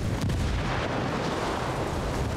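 A frag grenade going off in the video game Ghost Recon Wildlands, a loud, dense blast that rumbles and holds on with heavy, noisy debris.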